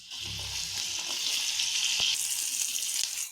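Onion dropped into hot oil seasoned with salt, turmeric and cumin powder hisses loudly and continuously up close, with faint stirring clicks underneath and no voices.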